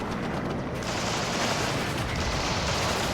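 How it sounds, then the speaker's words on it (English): Heavy battlefield gunfire in the war strategy game WARNO, a dense continuous roar of massed weapons fire and distant rumbling that holds steady and loud throughout. "Taking heavy fire"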